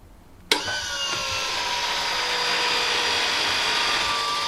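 A car lift's jacks start up with a sharp click, then a steady mechanical whine and hum rises and holds, raising a Porsche in a home garage.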